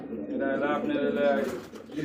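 Pigeons at a breeding loft coo in a low, throaty, continuous rolling tone close by, including a grizzle pigeon sitting on eggs, with faint background noise and no clear talk.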